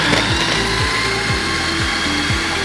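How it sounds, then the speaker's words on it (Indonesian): An electric chopper blends tilapia fish meat for fish balls with a loud, steady motor whir, near and continuous, its pitch dipping repeatedly as the blades bog down in the meat. "Selanjutnya ini kita tutup, kemudian kita chopper ya"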